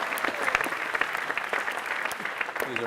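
A live audience claps at a juggling show as a performer throws triple spins in a cascade; steady, dense applause fills the whole stretch, moderately loud and unbroken.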